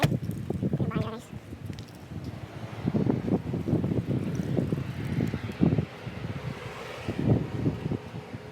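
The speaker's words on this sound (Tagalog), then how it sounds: "Lakas ng hangin." Strong wind gusts buffet the microphone of a moving car, a loud roaring rush with rumbling low noise, while a person talks over it intermittently.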